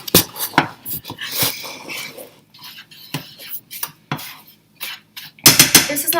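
A utensil clinks and scrapes against a pan while roux is mixed at home, in irregular bursts with quiet gaps between them and a louder flurry of stirring near the end.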